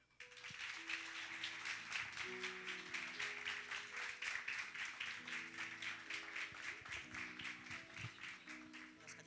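Warm audience applause at a church youth event, steady rhythmic clapping from a crowd sustained for several seconds, with a sustained keyboard or music bed playing underneath.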